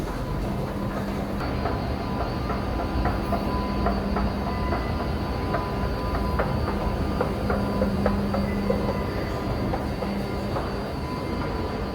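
A train runs along the rails at steady speed, a continuous loud rumble with rhythmic clacking of wheels and occasional faint squeals, heard from inside with no talking.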